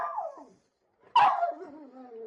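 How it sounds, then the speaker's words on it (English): A dog gives a high whine, goes silent, then lets out one sharp, loud bark that trails off into a whimpering tail, close and without talking. "Yes, it's Spot the Wonder Dog."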